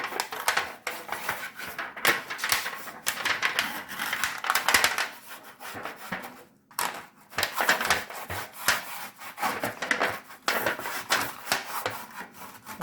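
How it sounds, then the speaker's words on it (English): A baking tin is greased for a Jamaican Christmas fruit cake, with continuous close rubbing and scraping strokes in an irregular rhythm, a brief pause midway, and no talk. "I am greasing my baking tin"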